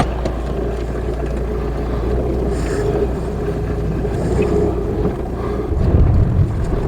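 A car driving slowly around a yard after a front wheel change, with a loud, steady low engine drone and road rumble heard from inside the car, plus some wind buffeting.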